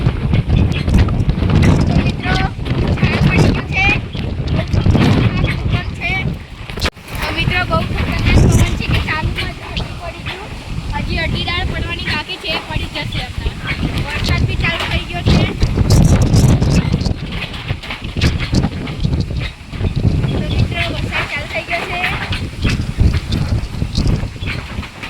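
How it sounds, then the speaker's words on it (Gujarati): Fierce storm wind of a cyclone, strong enough to half-topple a tree, roars and buffets the microphone in continuous rumbling gusts, with someone talking through it. "કેટલો ભયાનક પવન હશે મિત્રો"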